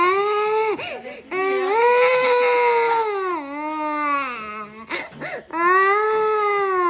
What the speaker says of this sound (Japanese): 怒り疲れて泣いたん？